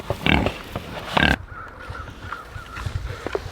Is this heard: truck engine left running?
no